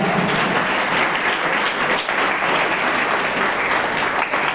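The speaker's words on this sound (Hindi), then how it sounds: "यह जोरदार तालियां।" Loud, sustained applause from seated students at a school award ceremony, a dense steady roar of clapping filling the whole stretch without pause.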